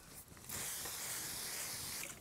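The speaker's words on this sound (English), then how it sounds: "I'm going to use this aerosol type of container so you can see what that spray looks like. It has a very light spray." Aerosol spray starch hisses onto quilting fabric in one steady, soft burst of about a second and a half, close by and without talk.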